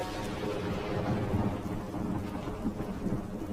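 Cartoon storm effect of a windy evening by a river: continuous rumbling thunder over steady rain, moderately loud, with no voices.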